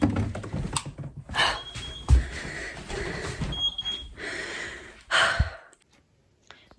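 An oven timer in a home kitchen, set during sourdough baking, gives a couple of short, high electronic beeps amid quiet handling noise and breathing, with no talking.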